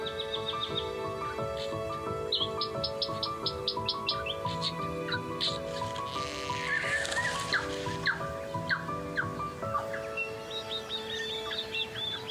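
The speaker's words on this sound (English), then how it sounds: "Morning on Little Barrier Island is a time of hectic activity and almost deafening song from dozens of bird species." A dense dawn chorus from dozens of bird species on Little Barrier Island, New Zealand: overlapping whistles, repeated chirps and fluty phrases rise together, near and far, loud and nonstop.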